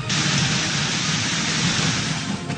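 Heavy rain pours down in Swat, Pakistan, during severe weather, making a loud, constant broadband hiss that barely changes from start to finish, with no voices.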